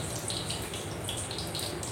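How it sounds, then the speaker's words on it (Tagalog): Water splashes into a pan of frying lechon kawali pork, a steady hissing crackle of hot oil and sputtering that continues evenly throughout. "bubuhusan natin ng pakonti-konti ng tubig para lumutong yung ating lechon kawali"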